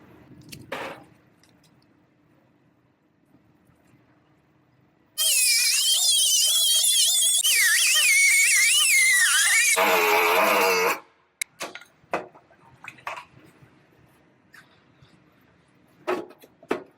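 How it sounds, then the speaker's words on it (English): An air-powered cutting tool bites into an auto body panel in a bodyshop, a loud, steady high-pitched shriek running unbroken for about six seconds and then stopping abruptly, with scattered clicks and handling noises before and after. "I'm going to make that cut all the way around 1/4 inch in front of that die mark"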